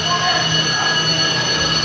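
A train stopping at a station in China gives off a steady, loud mechanical drone with a faint high squeal of wheels on rails, continuous throughout the short moment.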